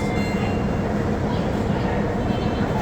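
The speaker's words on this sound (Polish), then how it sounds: "O, wjeżdża teraz pociąg." A train pulls into a railway station in India, giving a steady, loud rumble of rolling cars that fills the whole stretch without letup. No one speaks over it.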